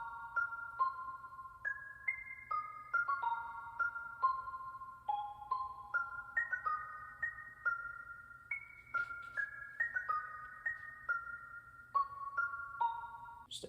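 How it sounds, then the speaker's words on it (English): A bright bell melody programmed in beat-making software plays a steady pattern of clear, ringing notes that step up and down around a minor chord, over a soft low hum, with no voices. "So next we have another bell sound."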